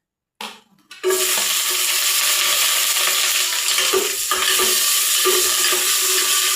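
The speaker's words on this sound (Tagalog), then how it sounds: "Una nating igigisa luya." Ginger hits hot oil in a pan with a sudden loud hiss after a brief clatter, settling into a steady, close sizzle with faint stirring scrapes.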